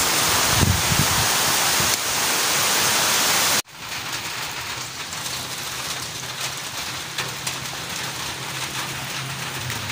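Heavy rain pours steadily outdoors near a hut, a loud, dense hiss that drops abruptly partway through to a slightly softer, crackling patter of drops on surfaces.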